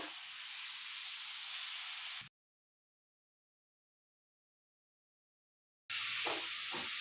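Boneless chicken with roasted crushed cumin sizzling on a tawa over medium flame, a steady close hiss for about two seconds, then a long silent gap before the frying sizzle returns with some stirring.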